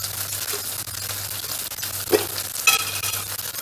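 Minced meat sizzles in a pan while a spoon stirs and scrapes through it, a steady close crackle with a few sharper clinks, and no voices.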